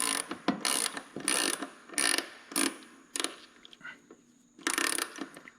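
A wrench screwing an injector line back onto a Cat capsule injector on a diesel engine, loud repeated ratcheting bursts in an uneven rhythm with short pauses between strokes.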